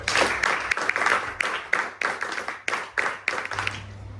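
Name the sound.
audience clapping at NCC felicitation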